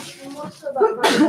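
A single sharp sneeze bursts out after a moment of soft background murmur at a mural tile workshop, close and loud.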